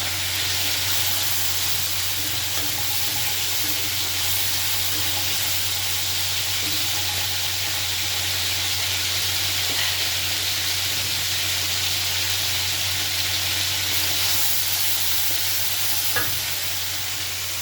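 Spice paste (masala) for a gourd and fish curry sizzles and hisses steadily in the pan as it is fried. The frying noise is loud, constant and alone, without talk.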